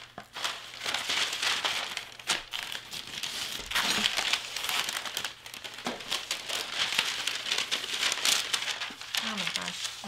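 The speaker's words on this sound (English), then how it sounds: "So I'm gonna flip this over because we want the brown paper to be on the outside." Brown wrapping paper being flipped over and crinkled while wrapping a Christmas gift, close, continuous rustling and crackling with occasional louder crumples.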